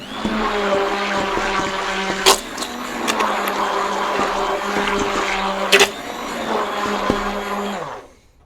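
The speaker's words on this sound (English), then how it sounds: "to do that effectively, one needs one's stick blender" A stick blender whirs steadily at close range for several seconds while mixing soap, with a few sharp clicks and bumps, then winds down and stops.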